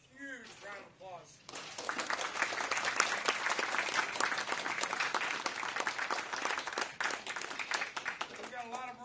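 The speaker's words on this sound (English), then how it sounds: "Let's give them a huge round of applause" A large room at a Veterans Day ceremony breaks into loud, sustained applause after brief speech, with a voice returning at the very end.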